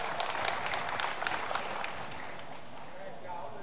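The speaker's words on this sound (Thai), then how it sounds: "ขอเสียงปรบมือเป็นเกียรติดังๆอีกสักครั้งนะครับ" Spectators at an outdoor Muay Thai boxing event held at a temple in Suphanburi clap in a steady, moderately distant wash of applause, with an announcer's voice talking over it.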